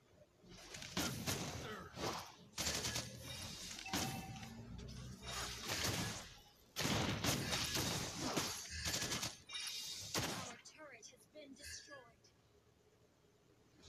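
Clint fires his gun in the mobile game Mobile Legends: Bang Bang, loud repeated bursts of shots and impact effects with a character voice speaking between them.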